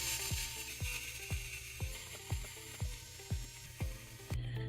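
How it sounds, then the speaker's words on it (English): Screws being removed one after another from the cover of a Lenovo ThinkPad X1 Yoga laptop, heard as about nine sharp, quiet clicks in a steady rhythm, close up with no talking. "remove the 1, 2, 3, 4, 5 screws that are holding the cover"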